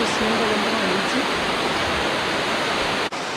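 Water rushes through the opened gates of the Salandi Dam at Hadagarh, Keonjhar, swollen by rainy-season flow: a loud, steady, unbroken roar with only a brief dip near the end.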